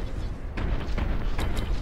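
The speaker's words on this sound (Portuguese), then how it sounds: "Tiro pra todo lado." Gunfire and explosions in Warhammer 40k Boltgun, a dense, loud barrage of booms and sharp shots firing in rapid succession with no clear voices.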